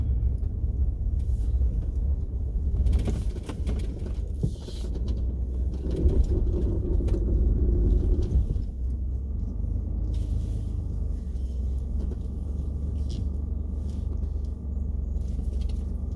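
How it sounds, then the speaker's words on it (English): Steady low road rumble from a vehicle driving out to rural property in Alaska, a continuous close drone with some bumps and rattles, no speech. "Driving out to my property."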